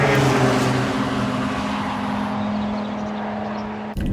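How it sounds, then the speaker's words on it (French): A Volkswagen Golf 7 R driven on the Nürburgring circuit, its engine a loud, steady drone with strong wind and road roar that stays close and continuous before cutting off abruptly at the end. "La Golf, c'est d'abord une très bonne routière, mais elle peut également servir à s'amuser sur circuit."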